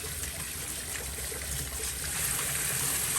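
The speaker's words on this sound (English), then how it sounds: "So I just do that using my little hand sprayer." A small hand sprayer rinses grit from items being prepared for a Raytech Tumble Vibe tumbler, giving a steady hissing trickle of water that runs continuously, slightly louder toward the end.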